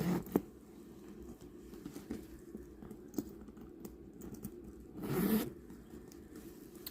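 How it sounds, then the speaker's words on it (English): A short zipper pull on a Brahmin handbag rasps open near the microphone after a few faint clicks and taps, fairly quiet overall. "let's unzip it."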